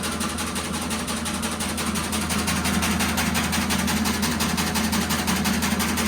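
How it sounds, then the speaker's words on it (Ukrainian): A seed processing machine's motor idles while warming up, giving a steady, close, continuous hum with even vibration throughout. "Хай вона мотор трохи прогріється."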